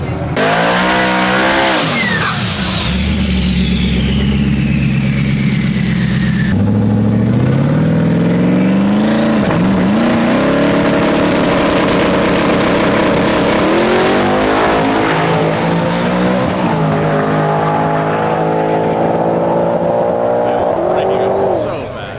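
A Mustang drag car roars through a full-throttle quarter-mile pass, engine pitch climbing and dropping through gear changes in a loud, harsh, staccato blare that fades slightly as it ends.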